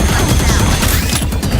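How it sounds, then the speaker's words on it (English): A grenade explodes in a Valorant tournament match, a loud burst of noisy blast and crackling debris lasting the full short moment with no talk. "There's the nade."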